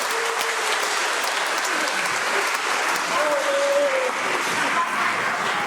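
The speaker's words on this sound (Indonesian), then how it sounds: "Mari kita aplaus buat Kor." Church congregation applauding the choir at a Christmas Eve Mass, steady broadband clapping filling the whole stretch at even loudness, with a brief sustained organ-like tone rising faintly midway.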